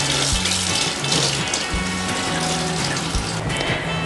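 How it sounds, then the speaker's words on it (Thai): Peeled papaya is washed and rubbed under clean running water to clear off its sap, producing a steady, close splashing and trickling flow with small sloshing shifts as the fruit is handled. "ล้างน้ำสะอาดถูยางออกให้เกลี้ยง"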